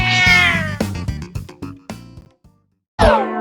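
Two cats in a trivia quiz video game meowing loudly at the start, followed by a run of short clipped cartoon sound effects and a final bright meow after a brief pause.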